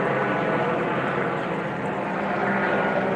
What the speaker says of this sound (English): Chopper's going around in circles.